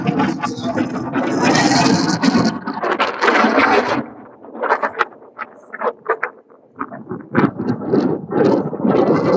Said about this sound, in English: With this wind been going crazy, rain and whatever else, it's just making it hard to get out.